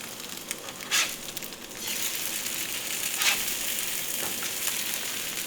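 Food fries on a stovetop griddle with a steady, close sizzle and a few sharper pops and crackles standing out.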